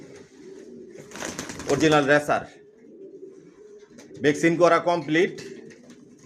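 Young Johnson line long-distance racer pigeon chicks from a loft, vaccinated, keep up a low, continuous cooing while someone speaks over them in two bursts.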